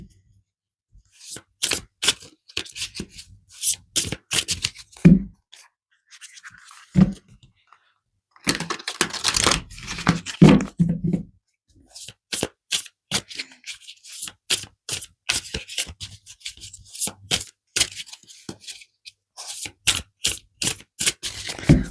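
Tarot cards shuffled and pulled, close papery riffles, slaps and flicks in irregular bursts separated by short silences, with a few longer shuffling runs.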